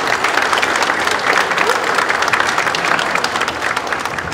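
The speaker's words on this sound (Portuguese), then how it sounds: "Essas palmas, professor, são para o senhor." A hall full of people gives Professor de Freitas a long, loud, dense round of applause, steady and close without letting up.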